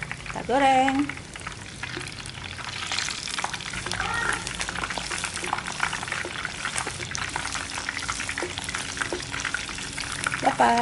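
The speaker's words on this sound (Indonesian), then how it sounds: "Nah, kita goreng." Steady crackling sizzle of shrimp fritters frying in oil throughout, with occasional clinks and scrapes, a brief faint voice at the start.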